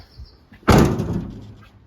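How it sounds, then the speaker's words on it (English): A heavy passenger-side rear door on a converted van is shoved shut, giving one loud, close slam with a brief rattling decay. A faint chirp is heard just before it. "due to the weight of the passenger side back door, you really have to give it a good shove."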